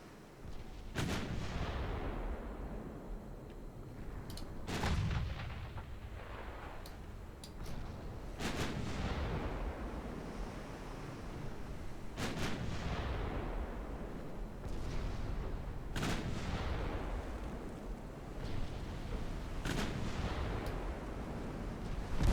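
In a naval video game of a British campaign, 4-inch guns on the cruiser Kent fire in heavy booming blasts every few seconds, each decaying into a long rumble over continuous low background noise.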